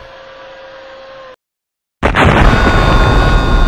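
A cannon-firing sound effect: a thin steady tone cuts to silence, then a sudden loud boom breaks into a sustained, roaring rush of noise.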